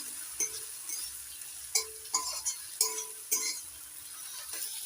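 Ginger, garlic and green chili paste frying in oil for a jackfruit and prawn curry, stirred with a spatula: a steady close sizzle with repeated scraping strokes and light clinks against the pan.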